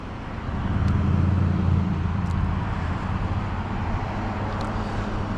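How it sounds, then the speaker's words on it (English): Steady, low road and engine rumble comes from inside a 2003 Hyundai Sonata V6 2.7 on the move. The drone is moderate and continuous, with faint clicks now and then and no talking. "Today we are driving a 2003 Hyundai Sonata V6"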